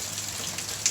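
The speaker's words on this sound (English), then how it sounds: "It's just pouring rain" Heavy rain pours steadily outside on a Friday, a dense, even hiss of drops drumming on surfaces with one brief louder splash near the end, with no voices.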